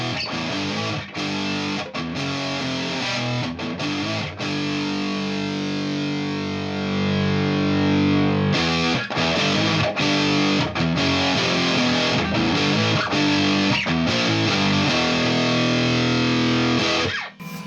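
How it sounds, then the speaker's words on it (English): Electric guitar driven through a Boss DS-2 Turbo Distortion pedal, a rowdy 90s distortion, playing thick, loud, saturated chords and riffs with brief pauses, close and continuous with no talk. "So let's hear the Turbo Distortion DS2 first."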